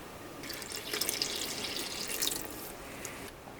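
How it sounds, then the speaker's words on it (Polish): Water runs steadily into a bowl from about 400 ml of room-temperature water poured for pizza dough made with Caputo Nuvola flour, a continuous splashing stream that swells and fades near the end. "Leci 400 ml wody, 400 g wody"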